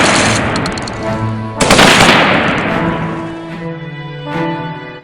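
A firing squad execution rendered as a gunfire sound effect, loud rapid volleys of shots with a dense burst in the middle and reverberant tails, mixed with a musical drone.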